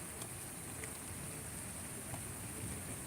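Steady, faint rain falls during a nighttime thunderstorm with no wind, a continuous soft hiss with a few scattered drop taps and no voices.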